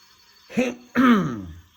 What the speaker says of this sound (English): if I have to clear my throat a couple times during this video, please excuse me